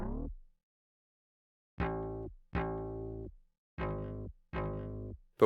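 A dry sampled bass guitar with no effects plays five plucked notes: one fades out at the start, then four round, sustained notes follow in a steady pattern, each ringing and decaying alone.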